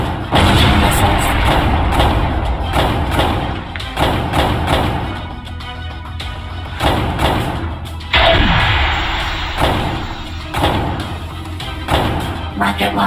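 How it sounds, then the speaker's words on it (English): Heavy, loud booming thuds from missiles launching in a space fighter video game, repeated every second or two over a continuous dense rumble, with a synthetic voice announcing under the blasts. "Launching missiles."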